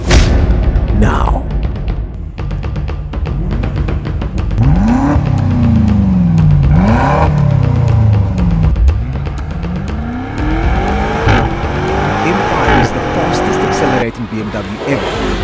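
A twin-turbo four-wheel-drive BMW M5 accelerates hard around a race track, its engine rising and falling through repeated upshifts and swooping revs, loud and close, with someone talking over much of it.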